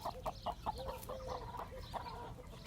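An Indian breed rooster with plucked wings, running on a treadmill, clucks in a quick series of short calls, then gives softer, drawn-out vocal sounds over a low outdoor background.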